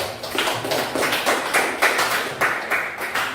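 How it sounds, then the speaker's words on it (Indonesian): Students in a classroom clap for a presenting group, a steady burst of several hands in uneven rhythm with no voices, moderately loud and close. "Berikan aplaus bagi kelompok 3."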